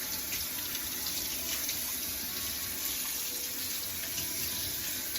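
Tap water runs in a constant, even splashing stream while a small dog is bathed, with no talking over it.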